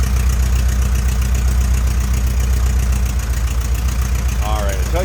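A 1973 Porsche 914 engine idles steadily, heard up close from the rear of the car, a loud, even, throbbing rumble held for several seconds, with a faint voice briefly audible near the end.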